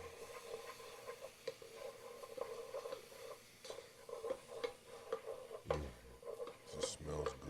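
A spoon stirs minced garlic and other aromatics in a pot for a Cajun chicken, shrimp and sausage jambalaya, giving soft, steady scraping and faint sizzling with a few louder clanks near the end.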